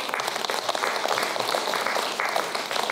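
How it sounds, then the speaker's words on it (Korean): An audience at a poetry-recital event bursts into warm applause to welcome a magician on stage. The many hands clap in a lively, continuous patter at moderate loudness for the whole few seconds. "여러분 큰 박수로 시작하겠습니다."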